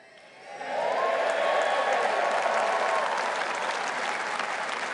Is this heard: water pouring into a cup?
no